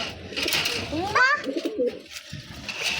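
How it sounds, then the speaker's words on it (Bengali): A pet pigeon coos softly while eating, its low burbling call set close against children's chatter and household background noise. "কবুতর খাইতেছে কবুতর খাইতেছে"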